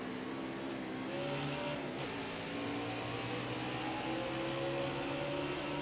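NASCAR stock cars lap Road America in NASCAR Heat 5, a steady layered engine drone with pitches sliding up and down as cars accelerate and shift, moderately loud and unbroken, no voices.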